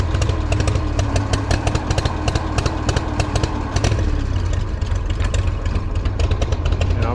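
A Farmall 460 tractor engine runs rough, a loud, close, uneven chugging idle with rapid irregular firing pulses and sputters throughout, heard alone without voices.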